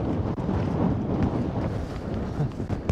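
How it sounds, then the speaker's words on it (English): Gusts of wind blow steadily across a mountainside, making a close, rough rumble of buffeting against the microphone. "So windy."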